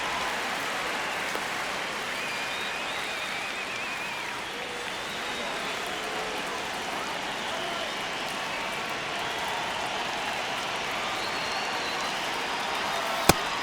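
Simulated baseball crowd noise from a Dodgers versus Tigers video game plays as a steady, even roar of distant cheering and chatter, with a sharp crack near the end.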